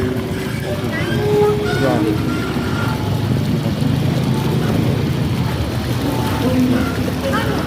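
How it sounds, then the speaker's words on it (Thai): A boat engine drones low and steady throughout at the Wat Bukkhalo pier in Thailand, with wind and water noise around it and a few faint higher tones. "เสียงได้ยินก็เสียงเรือนะพี่น้อง"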